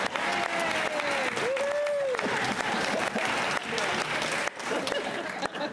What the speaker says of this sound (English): Clap, give him a hand.